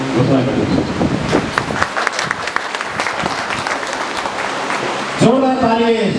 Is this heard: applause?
yes